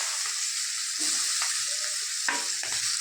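Onions dropped into hot oil in a pan hiss and crackle continuously, close and steady, with a few soft stirring scrapes and clinks, no voices.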